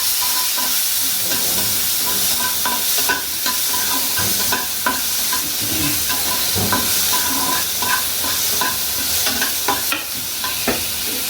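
Chopped onion and tomato fry loudly in a pan with a continuous dense sizzle, while repeated scraping strokes of a spoon stirring cut through; no voices.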